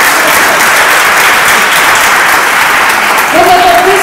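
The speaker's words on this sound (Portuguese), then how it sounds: "Dá uma salva de palmas bem forte," Loud, dense applause from a church congregation, continuous crowd clapping filling the whole stretch, with a faint voice or tone rising near the end.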